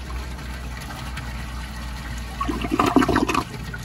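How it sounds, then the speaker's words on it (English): A 1955 Eljer Duplex toilet with a vortex jet is flushed: a quiet lead-in of faint hum, then a short close gush of rushing water lasting about a second. "so now when I flush it, you'll be able to see all the water shoot out of the vortex jet"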